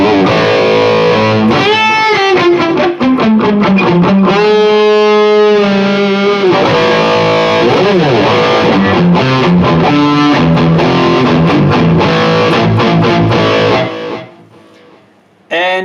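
Loud, heavily distorted electric guitar, a Schecter Banshee through a Rocktron Piranha preamp and Engl 2x50 EL34 tube power amp, close-miked with a 57, playing sustained chords and riffs, ringing out continuously before cutting to near silence at the end.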